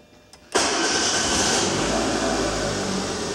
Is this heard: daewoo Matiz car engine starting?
yes